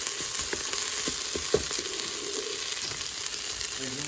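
Minced meat and spices for chilli con carne browning in a frying pan, giving a continuous dense sizzle with occasional spatula scrapes and taps, close and steady throughout.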